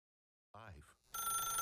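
Telephone ringing in The Stanley Parable, a sudden short ring after silence, followed by a bright metallic trilling bell that sounds close and clear.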